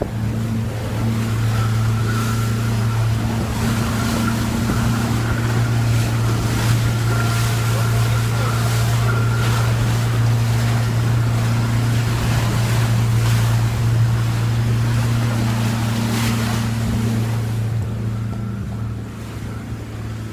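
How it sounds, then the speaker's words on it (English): A boat's engine drones steadily at sea near the Swansea Channel, a loud continuous low hum mixed with wind and water rush, easing slightly at the end. "That's the engine."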